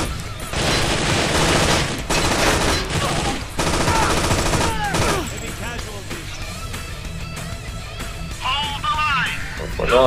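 Video game gunfire in a steelworks hangar level, loud bursts of rapid shots and crashing impacts in the first half, thinning to scattered effects while a player talks over it.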